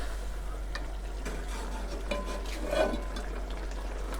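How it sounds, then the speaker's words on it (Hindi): Stock-cooked chicken pieces being stirred into peas in a pot for chicken matar pulao, a series of soft scraping and wet sloshing strokes with a low background sizzle, close and moderately quiet, no one speaking. "यखनी वाली बोटियाँ ये जो है निकाल के मिक्स करना है इसके अंदर"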